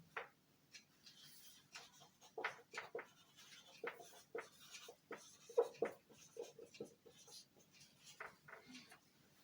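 Marker writing on a board during a calculus lesson, quick faint squeaks and taps in irregular bursts, close and quiet with no talking.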